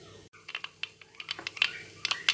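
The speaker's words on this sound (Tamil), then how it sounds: "கடுகும் வெந்தயம் பொரிஞ்சிருச்சு." Mustard and fenugreek seeds spluttering in hot oil in a pan, a quiet scatter of sharp pops and crackles that grows busier toward the end, with no talk.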